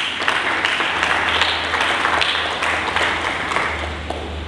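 A church congregation claps together in sustained, dense applause during a sermon, a steady loud patter of many hands with no speech over it.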